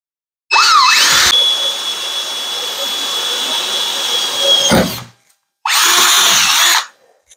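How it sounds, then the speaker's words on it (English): A power drill bores loudly through a thick metal steering column on a go-kart, a sustained whine that starts with a brief squeal, runs for about four seconds, stops, then resumes for a second shorter burst. "I'm drilling a hole here for that one wire to go through."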